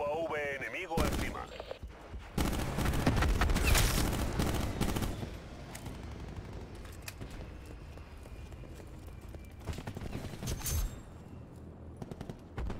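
Rapid gunfire from Black Ops 4 gameplay, loud bursts and fusillades of shots crackling throughout over game noise, with someone talking over it.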